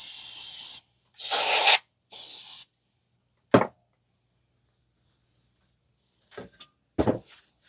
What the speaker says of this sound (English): use some brake cleaner to clean the dirt and debris that may be in there